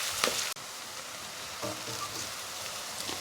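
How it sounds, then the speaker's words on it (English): Garlic and onion stir-frying in a pan, a faint steady sizzle with a sharp clank and a few soft scraping stirs. "Garlic, onion, stir it until it turns golden brown."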